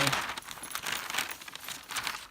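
A Teflon pressing sheet handled on an ironing board gives a crisp, papery rustle and crinkle, steady through the clip and fairly close, with no talking.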